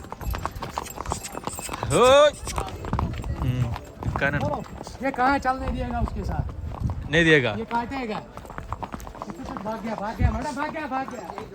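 Horse hooves clip-clopping on a trail in Baisaran valley, Pahalgam, Kashmir, during a horse ride: a steady rhythmic hoof beat under nearly continuous talking and calling from riders.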